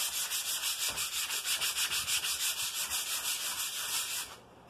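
Hand sanding a piece of wood meant to become a tray, steady rhythmic back-and-forth rasping strokes at close range, about twenty even passes before tapering off at the end.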